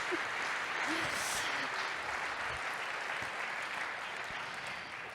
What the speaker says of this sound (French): vous pouvez tous les applaudir bien fort pour leurs prestations